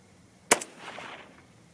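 A single sharp rifle report from a .224 Valkyrie or .223 Remington, cracking out once at moderate loudness with a quick echo trailing off into outdoor quiet; no further shots follow within the span.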